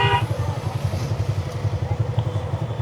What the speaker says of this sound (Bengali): বাইকে করে চলে আসলাম হাতির ঝিলে ঘুরতে